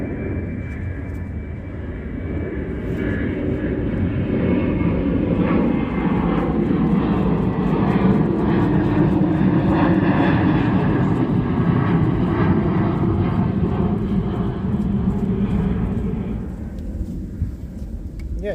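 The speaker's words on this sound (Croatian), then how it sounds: "ovaj Boeing je blizu" A Boeing airliner flying low overhead, its engine roar swelling from a distant hum to a loud, broad drone that peaks mid-pass and then fades away.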